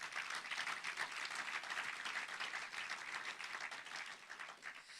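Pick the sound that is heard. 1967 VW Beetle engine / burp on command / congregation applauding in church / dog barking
congregation applauding in church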